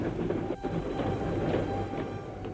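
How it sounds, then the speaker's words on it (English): Troop trains rumble across the rails in France during 1914, a continuous heavy low rumble with a faint rhythmic clatter, loud and steady throughout, with no voices. "as the troop trains rumbled across France to the decisive point"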